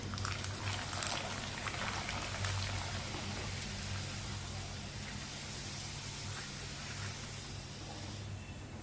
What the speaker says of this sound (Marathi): आणखी एक तेलामध्ये पापड घालूया